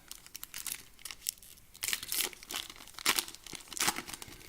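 NRL trading card packs are ripped open close by, with steady crinkling and tearing of foil wrappers that comes in several louder bursts.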